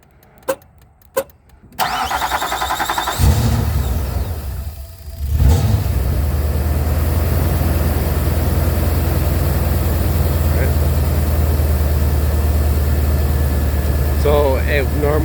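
Cold start of a car engine fitted with a 90 mm throttle body at about 10 degrees Celsius: a few clicks, a short cranking burst, then the engine catches and settles into a steady, loud idle with a low rumble.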